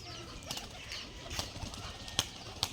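A Rajshahi giribaz pigeon takes off outdoors on release, giving a few soft bursts of wing flapping against a quiet background, with sharper wing claps near the end.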